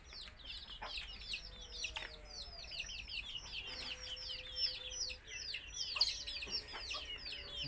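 Native free-range chickens raised for sale cluck and chirp continuously, many birds at once, a busy overlapping chorus of short calls at moderate distance with no talk.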